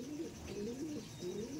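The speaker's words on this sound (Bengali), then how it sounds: "হ্যাঁ জিরিয়া পায়রা।" A Chennai Madrasi tournament pigeon coos in repeated low, rolling phrases, close and distinct against a quiet room.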